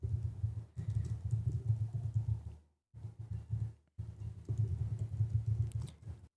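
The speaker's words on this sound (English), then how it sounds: "So let me type my email address here." Quiet typing on a computer keyboard while an email address is entered, rapid soft key taps in three bursts with short pauses between.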